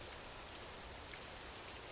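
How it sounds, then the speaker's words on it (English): Steady rain falls on a surface with a constant, even hiss, alone with no voices, heard during a truck trip. "Wow, it's rainy."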